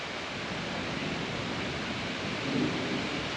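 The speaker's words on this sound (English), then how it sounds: "It's now raining and thundering." Steady rain pours down during a thunderstorm rolling in over farmland, a broad continuous hiss with a faint low rumble swelling briefly near the end.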